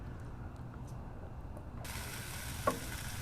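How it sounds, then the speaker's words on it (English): Tomato paste and sauce are stirred on a hot Blackstone 22-inch griddle, a steady sizzle with soft scraping under it and one sharp metallic clink near the end. "You mix these up, you get it all incorporated."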